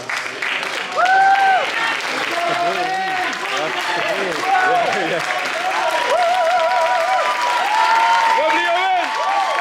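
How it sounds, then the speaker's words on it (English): Audience at a PCA Naturals bodybuilding show applauding and cheering, sustained clapping with shouts and whoops from the crowd, while an announcer talks over it. "And relax, audience members, a round of applause."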